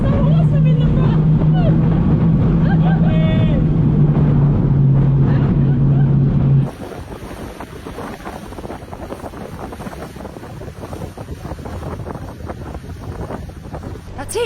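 A police speedboat in Dubai, billed as the world's fastest, runs at full throttle with a loud, steady engine roar and heavy wind buffeting that drops abruptly about halfway through. Excited voices can be heard over it.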